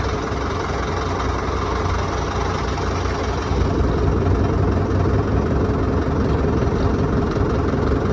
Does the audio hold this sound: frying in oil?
no